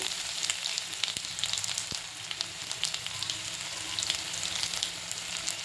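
Cumin seeds and chopped garlic fry in hot oil for lasooni palak dal, a fine continuous crackling sizzle with small pops scattered throughout, close and moderately quiet.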